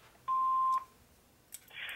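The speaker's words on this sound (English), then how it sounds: "Please leave your name and phone number after the beep." Answering machine beep: one clear, steady electronic tone of about half a second, followed by faint clicks and a short burst of hiss.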